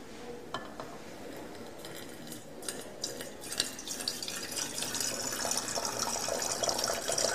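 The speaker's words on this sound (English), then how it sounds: "we transfer the solution into a volumetric flask" Solution poured from a beaker down a glass rod into a glass volumetric flask at a lab bench, giving a soft steady trickle with small drips and light glass clinks, faint and close, no talking.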